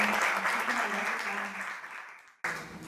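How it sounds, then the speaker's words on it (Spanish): Audience applause at a writers' panel on academic work, steady broadband clapping from a seated crowd that fades over a couple of seconds, with a brief cut before it resumes. "Un aplauso también."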